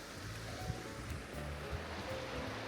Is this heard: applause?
no